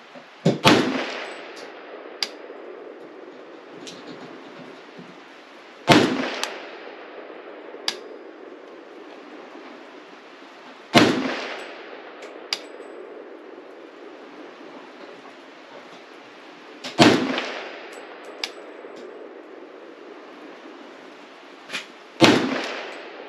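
Single rifle shots from a Palmetto GF5 AK firing Hornady Black ammunition, five loud sharp cracks spaced about five seconds apart, each followed by a ringing decay, with faint metallic clinks between them.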